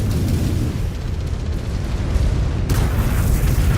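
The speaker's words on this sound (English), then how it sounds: "Incoming missile." Missile blast in MechWarrior 5: Clans, a dense low rumble that stays loud and sustained throughout, with a sharper burst near the end.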